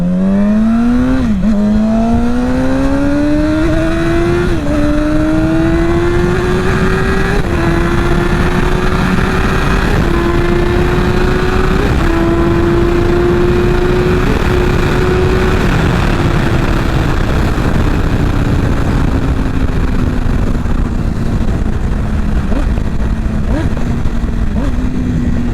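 Motorcycle ridden through the woods, its engine loud and close throughout, revving up through repeated gear shifts with rising and falling pitch, steady and unbroken for the whole stretch.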